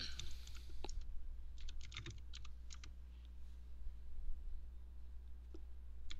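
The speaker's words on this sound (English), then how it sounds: "I think we can hear her keyboard" Computer keyboard typing, heard over a live podcast connection as scattered bursts of quick clicking keystrokes, faint against a steady low hum, with pauses between the bursts.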